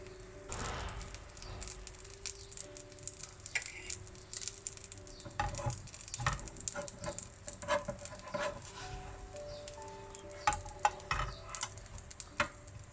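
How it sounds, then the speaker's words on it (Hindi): Food cooks gently in butter over a low flame, giving a quiet, uneven sizzle with scattered soft clicks and stirring scrapes, and no one speaks. "इसमें अब थोड़ा सा मैंने बटर डाला है, ऊपर रखो इसे और हल्की आंच पर पकाएंगे इनको।"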